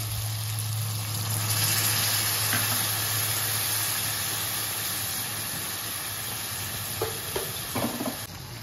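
Water goes into a hot pan of bhindi (okra) masala, setting off a steady, close hiss of sizzling and steam, with a few stirring clinks near the end.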